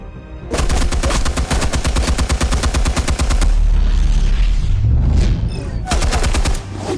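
Loud, close automatic gunfire in Batman The Telltale Series on PS4: a long rapid burst of shots, a brief rumbling pause, then another short burst.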